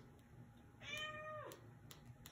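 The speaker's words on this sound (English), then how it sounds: "You see my cat wants to help me out with this," A pet cat gives a single clear meow lasting about half a second, close and soft, in a quiet room during a clay painting session, with faint small clicks around it.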